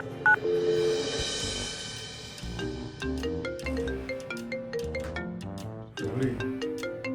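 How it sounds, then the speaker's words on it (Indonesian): Phone keypad tones being dialed, a quick run of beeps, followed by a melodic ringtone playing in a loop, loud and close, with no talking over it. "Oke, aku bakal telepon Rafin sekarang."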